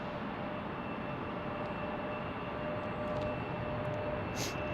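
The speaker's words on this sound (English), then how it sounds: "E175 departing" Embraer E175 airliner departing Salt Lake City airport, a steady broadband engine roar at moderate distance, continuous and even throughout with a faint thin whine riding above.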